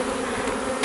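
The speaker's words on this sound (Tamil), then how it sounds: "சத்தம் பார்த்திங்க எப்படி கேட்குன்னு பார்த்தீங்கன்னா இதில் ஒரு 5-6 ஃப்ரேம் தேனி அளவுக்கு இருக்குது" Honeybee swarm of roughly five to six frames' worth during a colony capture, a dense, steady close buzzing hum with no talk.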